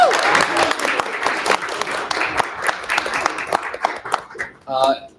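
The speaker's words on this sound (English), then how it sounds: "Can we get another round of applause for our student presenters?" A round of applause from an audience at a school board of trustees meeting for student presenters, steady clapping that thins and fades toward the end, followed by a brief voice.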